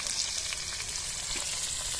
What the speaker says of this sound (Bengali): এই আলুগুলোকে আমি লাল লাল করে ভেজে নেব।